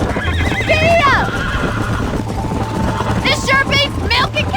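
A horse in the Western video game Red Dead Redemption whinnies loudly over steady galloping hoofbeats, with a rider's shouts and game sounds mixed in.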